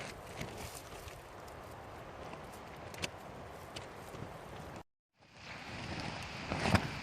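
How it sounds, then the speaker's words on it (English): Cold dawn wind gusts faintly and unevenly across an open pine ridge camp, with soft rustling bursts, a brief dropout, then a louder rush of wind toward the end. "Wind kicking, it's cold."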